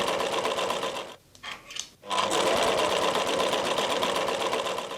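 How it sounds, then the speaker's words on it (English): A serger overlocks the raw side edges of T-shirt fabric, whirring at high speed in a dense continuous buzz, pausing briefly near the start before running steadily again, close up. "Serge the raw side edges on the serger."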